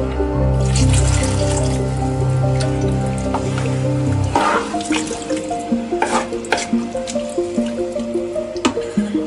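Bone and meat broth poured into a soljanka pot, a steady liquid gush for a few seconds that gives way to intermittent drips and light splashes, close and fairly loud with no talk.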